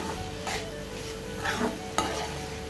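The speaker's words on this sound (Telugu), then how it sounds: "ఇప్పుడు ఈ పచ్చివాసన పోయే వరకు బాగా ఆయిల్లో ఈ విధంగా ఫ్రై చేసుకోవాలి" Salt and chili powder fry in hot oil while being stirred, giving a close, continuous sizzle broken by a few scraping sweeps of a utensil and one sharp clink against the pan.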